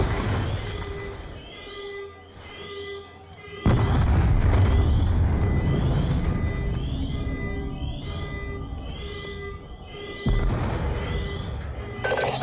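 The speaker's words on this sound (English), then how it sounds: "We're monitoring multiple explosions across the facility." Explosions in Call of Duty Black Ops 2 strike as loud, deep booms at two points, rumbling on under a repeating electronic alarm-like ringing that runs throughout.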